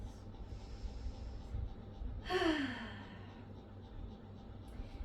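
A single deep, audible breath drawn in and released during a yoga forward fold, soft and close over a low steady background hum, with the rest quiet.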